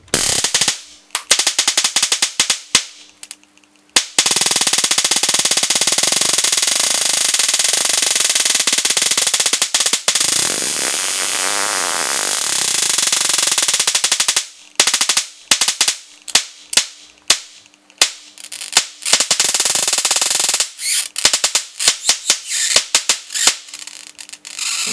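A 20 kV transformer charging a 40 kV 100 nF pulse capacitor: harsh crackling bursts and buzzing electrical discharge alternate with a loud sustained squealing drone, with sharp snapping pops toward the end.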